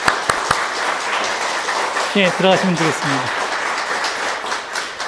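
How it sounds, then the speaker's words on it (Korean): Congregation applauding in church to congratulate members, steady loud clapping across the room while someone speaks over it briefly. "다시 한번 축하의 박수 드리겠습니다"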